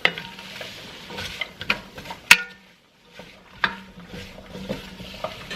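Chopped vegetables for a chicken soup sauté in butter in a pan with a soft, low sizzle, broken by irregular scraping and clinking as a utensil stirs them, including one sharp clack and a brief quiet gap.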